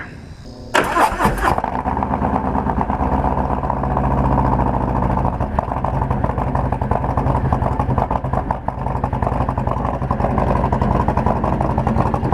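A 2019 Harley-Davidson Road King Special with a 114 engine and S&S cam fires up with a short burst, then settles into a loud, steady, deep rumbling V-twin throb while riding.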